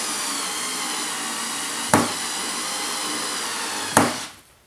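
A Ryobi TEK4 cordless screwdriver drives a screw into wood without a pre-drilled hole, clutch set to 10: a steady close motor whine broken by two sharp clutch clicks about two seconds apart before winding down.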